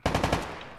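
Short automatic gunfire burst from a military shooter game, four rapid shots about a tenth of a second apart, loud and close, then a fading echoing tail.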